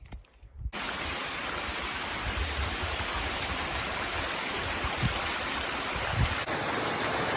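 Water rushes down a rocky hiking trail in the White Mountains, a loud continuous close-up stream roar that starts abruptly and holds steady with no talk.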